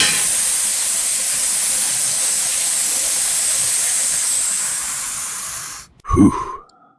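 Steam hisses loudly and steadily from a pressure leak in a repair shop, a broad continuous rush that fades slightly before cutting off, followed by a brief low thump and clatter.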